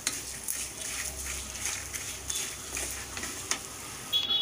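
Black pepper, cumin and dried chillies dry-roast in a pan for Chettinad mutton curry, giving a steady, loud, close sizzle and crackle with occasional scraping stirs and no speech.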